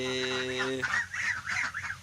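Ducks on a Turkish farmyard among roosters and hens give a run of harsh, honking calls, one steady drawn-out note followed by several quick rising squawks, close and loud with no talking.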